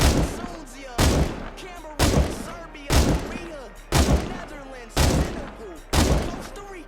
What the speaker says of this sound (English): Double tap is an exploit that allows you to shoot 2 bullets at once.